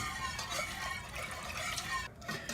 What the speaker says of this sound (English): once you have a good chunk of the milk in, you can just go ahead and pour the rest in without a problem